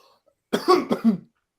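Two quick, harsh coughs burst out close by, back to back, after a moment of near silence.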